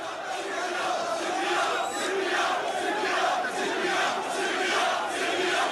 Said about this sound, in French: la foule se met à gronder un slogan.